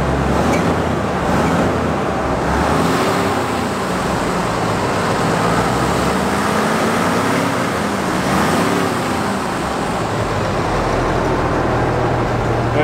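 A half-track military vehicle's motor, rated 147 horsepower at 3,000 RPM, idles steadily for about thirteen seconds, a loud, even rumble close by with a slowly wavering pitch and no talk over it.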